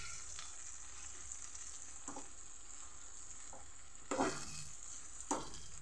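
Brinjal pieces frying in a pan, a soft steady sizzle with a few sharper stirring scrapes and clinks near the end, fairly faint and without speech.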